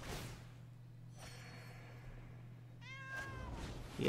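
A cat meows twice, quiet and close, over a steady low hum and faint background noise during a game stream, the second meow clearer and rising.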